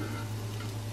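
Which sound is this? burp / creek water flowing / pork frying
pork frying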